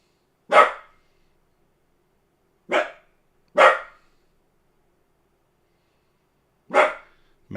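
A dog barks in four separate short, sharp bursts spaced a few seconds apart, loud and close, with silence between them and no talk.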